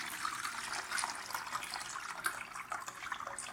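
Brine for an orange and lemon apple cider vinegar fire cider is poured, producing a faint, continuous liquid trickle and splash up close, steady throughout with no talking.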